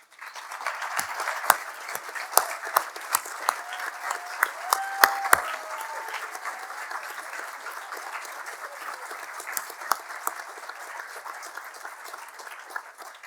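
A commencement crowd applauds graduates with honors standing to be recognized, a steady wash of many hands clapping throughout, with a few louder nearby claps popping out and faint voices underneath.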